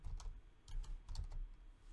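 Keys tapped on a computer keyboard in short quiet bursts, a few clicks then a pause and another cluster, close and alone with no talk.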